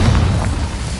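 Incendio fire spell in Hogwarts Legacy gives a brief, loud whooshing burst of flame with a low rumbling boom, close and dense for about a second.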